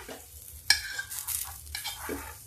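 Green beans stirred and roasted in a pan over low heat, a spatula scraping and clattering in short strokes over a faint sizzle, close and fairly quiet with no talk.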